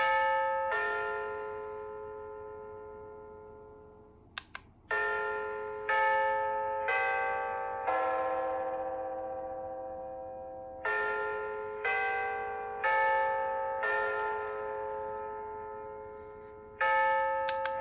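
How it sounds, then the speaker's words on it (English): Melodic electronic chime tones from an Xflyee 18-inch oversized digital wall clock playing its alarm sounds, ringing in several separate bursts with sustained tones that decay between presses, plus a couple of small button clicks, with no talking. "you can choose what type of chime you want. You can have a chime."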